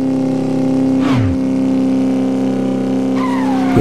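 In a motorcycle racing video game, cars and a taxi whoosh past, each with a loud rising-then-falling pass and a tire squeal, over a steady engine drone.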